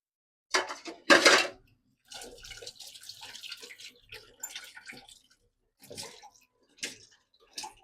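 Steel dishes and vessels being washed in a home kitchen sink: clattering of pots and utensils, a few louder clanks, then lighter scrubbing and splashing water in irregular bursts, close by with no talk.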